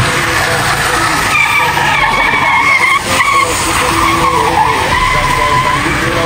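Car tires squeal through a long skid in a loud, continuous screech with engine noise beneath, during an Eid trip in Battagram, Khyber Pakhtunkhwa; people talk over it.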